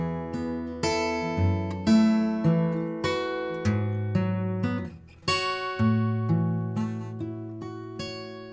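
Acoustic guitar playing a fingerstyle line from a song, a series of plucked chords and ringing notes in an even, moderately paced rhythm, close and clear with no talking.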